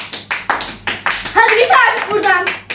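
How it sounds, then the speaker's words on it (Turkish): Several people clap in quick rhythmic bursts after a dance at home, sharp close hand claps repeating about twice a second, with children's voices rising over the later claps. "Hadi bana bir alkış."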